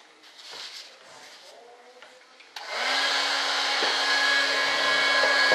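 Hot air tool blowing on foam for an RC F-105 Thunderchief jet, switching on abruptly after a few quiet handling noises and then roaring steadily and loudly with a constant whine.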